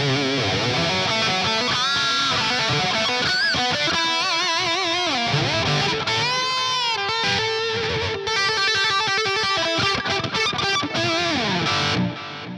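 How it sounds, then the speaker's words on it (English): Guitar tone from the STL Tonality Josh Middleton amp plugin with delay engaged: sustained distorted notes and bends trail off in repeating echoes, played alone and fairly loud. "Delay."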